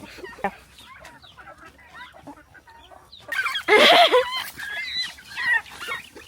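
Chickens kept on a farm cluck in a busy, overlapping chorus, with scattered calls at first and then a louder burst of squawking up close.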